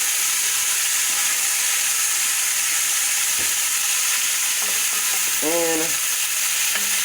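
Beef searing in a soup pot, a steady loud broadband sizzle filling the whole stretch, with a brief tonal squeak and faint clatter near the end.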